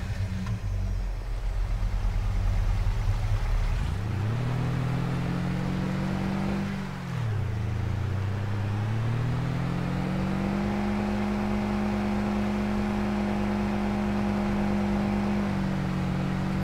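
A vehicle driving a lap in Farming Simulator 22, its engine droning steadily as it accelerates, dips and climbs again in pitch, loud and continuous with no voices.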